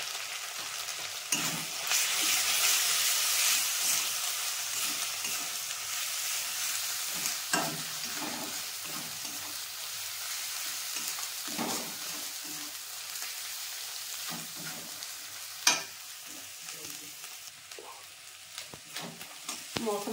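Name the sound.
frying ground spices for mutton paya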